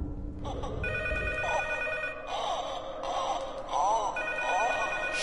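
A telephone rings in repeated bursts in the horror game P.T., loud and shrill with echoing tones over a dim hum, while a player's voice murmurs beneath.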